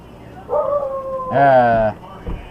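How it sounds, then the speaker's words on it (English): Indoors a dog lets out a drawn-out howling whine, then a louder, harmonic bark-howl close by, followed by a short thump. "that is my dog, if you can hear the barking."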